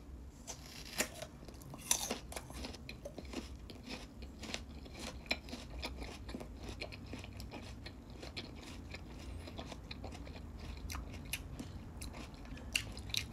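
Crisp bites and steady crunching chews of a firm, crunchy persimmon, close and quiet, repeating in an irregular rhythm with no talking.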